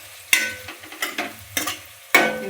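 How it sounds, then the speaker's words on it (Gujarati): A spoon stirring stuffed brinjal curry in a pan over low heat, making four distinct scraping strokes against the pan with a soft sizzle between them. "આપણે વચવચમાં આવી રીતે હલાવતા રહેશું, નીચે મસાલો બેસી ન જાય એટલા માટે."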